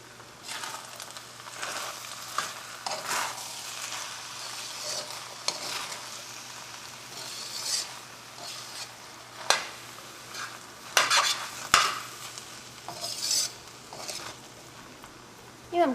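Vegetable pulao stirred in a pan over medium flame, with soft sizzling and scattered scrapes and clinks of a spoon against the pan, at close range and without talk.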